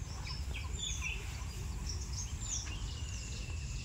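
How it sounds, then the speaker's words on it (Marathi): Birds chirp and twitter near a pond in rainy-season countryside in Kokan, a few high calls scattered over a low steady outdoor rumble, faint and distant, with no voices. "किलबिल सगळा पक्ष्यांचा, मोर वराटान."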